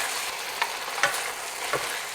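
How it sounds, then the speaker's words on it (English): Vegetables stir fried on high heat with oyster sauce, giving a steady close sizzle with a few soft spatula scrapes spaced through it. "Stir fry it."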